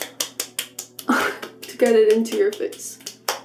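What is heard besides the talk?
hands clapping to pat skincare essence into face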